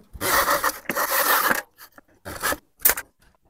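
Bursts of sawing as pieces of timber are cut for a plasterboard hole repair. There are two long rasping strokes followed by shorter scrapes, close up, with gaps of silence between them.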